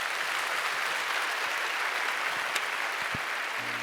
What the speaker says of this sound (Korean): 우리 인사하실 때 우리 박수로 환영해 주시길 바랍니다.